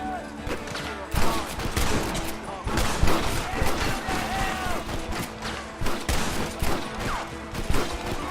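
Gunfire in a chaotic Red Dead Redemption shootout. Loud, dense bursts of rapid shots and heavy impacts sound almost continuously, mixed with shouted game dialogue.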